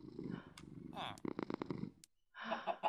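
A cat in the Minecraft video game purrs in a soft, low rumble at the start and again at the end, with a brief stretch of voice-like sound between the two purrs.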